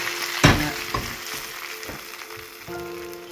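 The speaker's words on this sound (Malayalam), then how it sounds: "അപ്പം ഉള്ളിയെല്ലാം വറുത്ത് ഇനിയും കറിയിലേക്ക് ഒഴിക്കാൻ പോവാണ്" Fried onions and hot oil poured into a simmering fish and mango curry give a loud sizzling burst at first, then settle into a softer crackle with a few stirring clinks.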